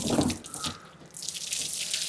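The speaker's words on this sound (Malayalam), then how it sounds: "ഇതുപോലെ വെള്ളം ചെതറി ടാങ്കിനകത്തേക്കും വീഴും" Water sprays from a tank-cleaning device and scatters down into a water tank, making a steady, close splashing hiss that runs through the whole stretch with no talk.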